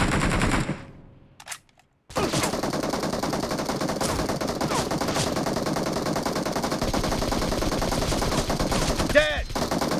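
Gunfire in the mobile battle-royale game PUBG Mobile, loud sustained automatic bursts that drop out for a moment near the start and then resume as a dense, continuous rattle.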